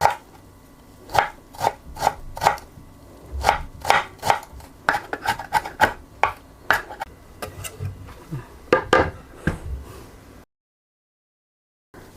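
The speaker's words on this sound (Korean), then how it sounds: "다음엔 장근을 자를 거예요. 채칼로 이렇게 썰어서 얇게 넣을 거예요." A carrot being sliced thinly on a julienne slicer, with a series of crisp, evenly spaced cutting strokes close by, loud and clear with no talking, ending in a short silence.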